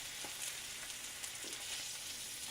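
Sausages sizzle and brown in a very hot pan, a steady dense frying hiss that runs through the whole stretch with no talk.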